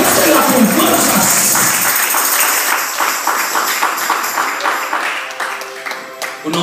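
A church congregation applauds together as an offering of praise, giving sustained, fairly loud clapping that settles into rhythmic beats while the preacher keeps talking over it.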